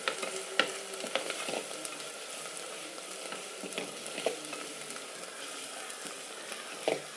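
Ginger garlic paste, about 50 grams, frying over a low flame in a pan and stirred gently, making a continuous close sizzle with scattered scraping clicks from the spoon and no voices.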